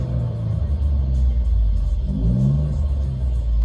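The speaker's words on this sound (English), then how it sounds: "So what's the motor sound like?" A Ford Ranger pickup truck's gas engine rumbles steadily nearby, a deep continuous drone with a slight rise in revs partway through.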